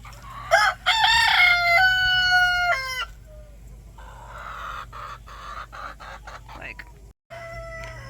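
Roosters crow loudly up close, one long rising crow after another, followed by softer clucking and scratching nearby.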